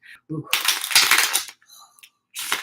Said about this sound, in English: can you hear the shuffling?